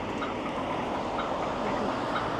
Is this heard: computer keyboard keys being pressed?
no